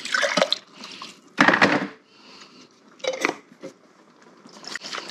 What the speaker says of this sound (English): I always like to rinse out my stock jars with a little bit of extra water since it's so jelly-like.